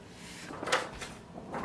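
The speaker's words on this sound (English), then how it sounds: "Open scanner and place a page for the scanning to start." The lid of an Epson XP-5205 printer's scanner lifts open with a single soft, close clunk and brief plastic rattle, alone in a quiet room.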